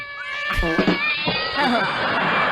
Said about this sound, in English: I don't know which pussy's growling louder, the kitty cat or Chazzy's fupa